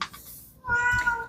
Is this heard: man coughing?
no